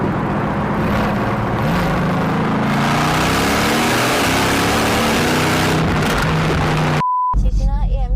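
A Mercedes-AMG GT engine and exhaust dropping through gears on a rainy drive, the engine note rising and falling across several gear changes, loud and close, followed by a brief electronic tone and a short burst of music at the end.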